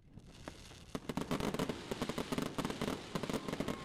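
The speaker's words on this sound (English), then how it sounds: "It's really nice because we get to see all the fireworks that South Africans came up with." Fireworks bursting during Guy Fawkes celebrations in Cape Town, a rapid string of sharp crackling pops and bangs, growing denser after the first second, heard at a distance with no talk.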